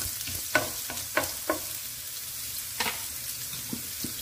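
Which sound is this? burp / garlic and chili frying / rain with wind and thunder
garlic and chili frying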